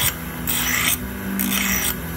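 A detachable pet-grooming clipper blade being buffed after modification, giving steady rasping back-and-forth strokes of moderate loudness, about one every half second, close up.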